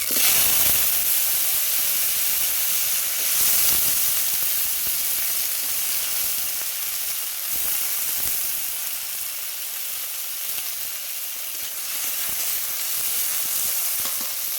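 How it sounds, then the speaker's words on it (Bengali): Potatoes and flat beans fry in hot oil with chili and nigella seeds, giving a continuous bright sizzling hiss that holds steady and close for the whole stretch, with no talk. "দিয়ে আমি আলুটা সিমটা ভেজে নেবো।"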